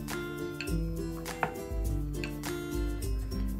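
A rolling pin works small balls of wheat-flour puri dough, rolled with an oiled finger rather than dry flour, making soft rhythmic knocks and rolls that sit under steady background music.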